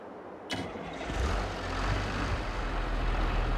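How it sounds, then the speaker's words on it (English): A farm tractor's engine cranks and catches, then settles into a loud, steady idle close by, with no voices over it. "I'm going to use this tractor this time."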